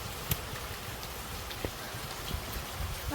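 Steady rain falls outdoors after a heavy downpour, a close, even hiss with scattered individual drops pattering on surfaces; no voices.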